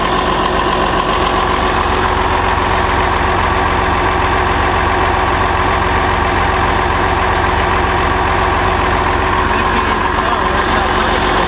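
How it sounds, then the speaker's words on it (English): A 1955 Oliver tractor engine runs at a steady idle, a loud continuous close-up rumble with an even vibrating drone that holds unchanged throughout. "when we started the tractor"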